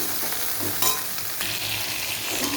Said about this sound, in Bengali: পেঁয়াজ ফোড়ন দিয়ে দিলাম